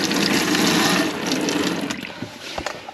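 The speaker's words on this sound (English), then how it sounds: "Put the water on, the water's all running fine." Hot water runs steadily from a household tap, a close, moderately loud gush that thins out and turns more spattery toward the end.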